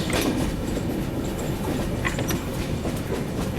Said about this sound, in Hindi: कर्व ले रही है ना ट्रेन